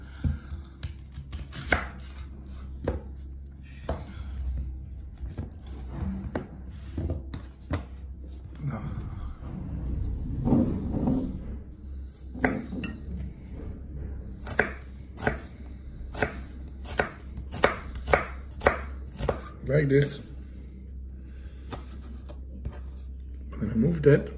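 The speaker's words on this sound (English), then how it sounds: "Now we are going to start by cutting the onion. Fine cut, like this." A knife chops an onion on a cutting board for a pepper dish with garlic, onion and tuna, making a long run of crisp, close taps at an uneven rhythm with brief pauses and quicker bursts near the end.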